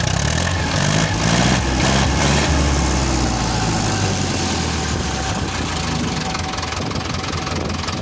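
An Ursus C-360 tractor engine after a cylinder head refit revs up from a rough, knocking idle, a loud close diesel clatter that swells and then settles into a steady running rumble.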